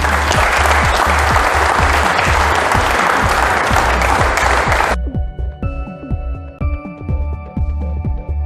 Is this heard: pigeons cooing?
no